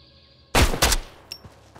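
A single loud sniper rifle shot in the game Road to Vostok, a sharp crack with a short echoing tail, followed by faint bolt or mechanical clicks and birdsong in the background.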